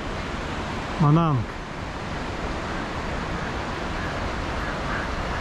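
Steady broadband rush of a Nepalese river flowing beneath a suspension bridge on the Annapurna Circuit trek, a continuous even roar, with a brief spoken word near the start over it.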